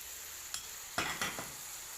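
Red, yellow and green bell peppers with chicken and garlic being stirred in a frying pan, a soft steady sizzle under a few scraping strokes of a utensil against the pan.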